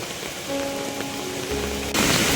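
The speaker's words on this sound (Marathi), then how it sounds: "पुलावरून पाणी चाललं आहे काय बघा आमच्या नदीला महापूर आला आहे खतरनाक पाणी बघा" Floodwater from a monsoon-swollen river in Konkan rushes over a village bridge, a steady broadband roar with faint tonal hum that grows louder near the end.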